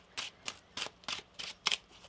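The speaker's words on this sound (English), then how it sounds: "One more shuffle here." Cards are shuffled in six quick riffling bursts, evenly spaced and close by, crisp papery flutters with short pauses between.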